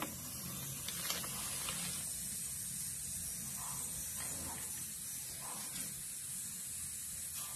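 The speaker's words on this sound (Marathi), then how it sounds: "पहिला पापड तळून घेऊया आपण." Lijjat papad frying in hot oil, a steady broad hiss with faint crackling running evenly throughout at moderate loudness, no voices.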